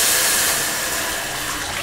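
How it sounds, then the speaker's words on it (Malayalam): The thin third extract of coconut milk is poured into a pot of Kerala green gram dal payasam, a loud, continuous rushing pour that eases off slightly toward the end. No voices. "ഇനി ഇതിലേക്ക് തേങ്ങാപ്പാലിൻ്റെ 3-ാം പാൽ ഒഴിക്കാം."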